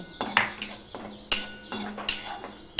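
Moong dal dry-frying in a hot pan, heard as several sharp metallic scrapes and clinks of a spoon against the pan in an irregular rhythm, close up.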